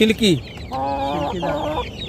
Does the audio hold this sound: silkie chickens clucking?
yes